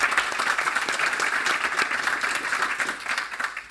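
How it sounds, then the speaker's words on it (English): A conference audience gives a warm round of applause to welcome a speaker: dense, continuous clapping from a large crowd, loud and sustained, with no talking over it. "Please, a warm welcome and applause."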